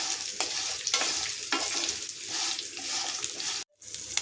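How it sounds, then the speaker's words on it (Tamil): Shallots and garlic sauté in a hot pan, a dense sizzle broken by repeated stirring scrapes, then a brief silent gap before the frying resumes. "இப்போ நாம் இது கூட ஒரு 20 சின்ன வெங்காயம் சேர்த்துக்கலாம். 4-5 பல் பூண்டும் சேர்த்துக்கலாம். சேர்த்துட்டு இதை நல்லா வதக்கி எடுத்துக்கலாம்."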